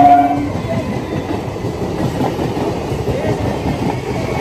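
A train rolls past on a railway line right beside a residential neighbourhood, a steady loud rumble and rattle of wagons with faint clickety-clack running throughout.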